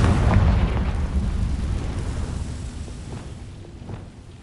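A Confringo spell from the Hogwarts Legacy video game erupts in a deep, loud booming explosion that rumbles and slowly fades over several seconds, with no talking.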